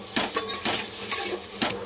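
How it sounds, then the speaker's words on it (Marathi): Ginger garlic paste is sautéed for crab curry, a steady frying hiss with repeated scraping strokes of a spoon against the pan, close and continuous. "बघा अद्रक लसणाची पेस्ट आहे। हे बघा, व्यवस्थित त्याला परतून घ्यायचं।"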